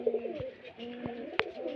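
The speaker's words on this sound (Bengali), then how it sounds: "সব মুর্শিদাবাদের গিরবাজ লাইনের পায়রা" Murshidabad giribaz-line pigeons coo softly at close range with low rolling calls and a couple of brief sharper sounds, fairly faint overall.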